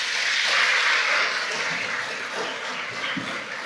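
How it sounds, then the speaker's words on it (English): Applause from a school crowd for fifth grade award winners, a steady dense wash of clapping that fills the room and fades slightly toward the end, with no voices over it. "if you'll give them one more round of applause"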